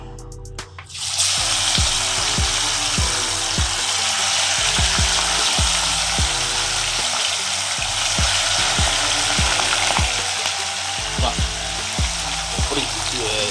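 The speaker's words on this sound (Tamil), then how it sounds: "நல்லா எண்ணெய் காஞ்சிருச்சு வாங்க நம்ம மீனை தூக்கி போட்டுக்கலாம்" Fish dropped into hot oil bursts into a loud, continuous sizzle and frying crackle that holds steady and close for the whole stretch, with a rhythmic ticking underneath and no speech.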